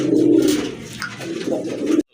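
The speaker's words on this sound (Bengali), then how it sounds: "একজোড়া কবুতর দেখতে পাচ্ছেন রাজগোল্লা কবুতর" Close, loud cooing of a pair of red Rajgolla pigeons, two deep rolling coos with a brief lull between them, then the sound cuts off abruptly.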